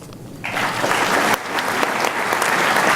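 A crowd claps steadily at a firefighter academy graduation ceremony, dense applause swelling slightly and holding at a strong, even level throughout.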